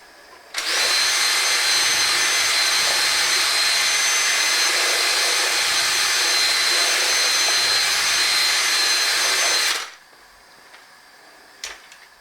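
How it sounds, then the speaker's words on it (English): A loud, continuous high-pitched whine of an electric drill mixing oat cake batter, running steadily for about nine seconds before cutting off, followed by faint clatter. "Mixing with a drill just to make sure that all them lumps are broken up properly."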